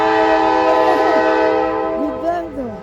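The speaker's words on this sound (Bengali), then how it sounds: "ট্রেন চলছে, দেখো স্টিম ট্রেন আরম্ভ, ছেড়ে দিল ট্রেনটা" A steam train whistle sounds loud and close as the train departs. The drawn-out tonal blast wavers in pitch, carries harmonics and fades slightly toward the end, with faint voices mixed in.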